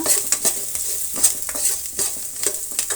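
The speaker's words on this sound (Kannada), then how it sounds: "1 ಸ್ಪೂನಷ್ಟು ಜೀರಿಗೆ, ಇಷ್ಟನ್ನು ನಾನು ಫ್ರೈ ಮಾಡ್ಕೊಳ್ತಾ ಇದ್ದೀನಿ" About a spoonful of cumin seeds fry in a pan, a soft hiss broken by repeated scraping strokes of a spoon stirring them, with no voices.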